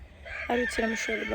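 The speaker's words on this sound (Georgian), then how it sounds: "აი მე ეს მამალის ხმა ხო არ შემიძლია რა." A rooster in a backyard poultry yard gives a single crow close by, heard over a person talking.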